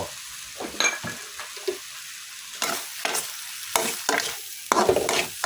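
Mee sua noodles are stir-fried in a wok with oyster sauce: bursts of loud sizzling and scraping swell in repeated waves between quieter pauses, with occasional clinks of the utensil against the metal.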